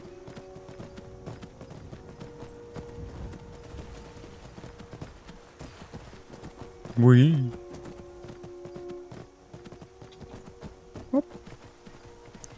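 Hooves of a horse in the video game Skyrim, a steady rapid clip-clop of galloping over several seconds at moderate volume, while a player makes brief vocal exclamations and a horse whinny sounds.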